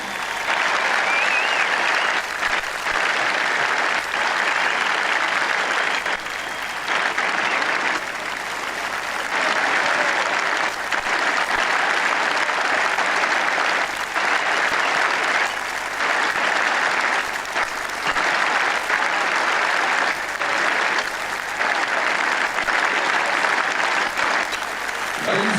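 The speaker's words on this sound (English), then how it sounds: "Would you please give a big round of applause for our guest of honour, Ronald Dale Barassi." Loud, sustained audience applause at a celebration dinner for VFL/AFL legend Ron Barassi, a dense steady roar of clapping that carries on unbroken for nearly half a minute.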